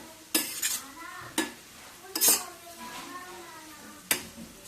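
A spoon stirs ridge gourd chutney with turmeric and oil in a pan, giving several separate metallic scrapes and clinks spaced irregularly, close and moderately loud over a soft background sizzle.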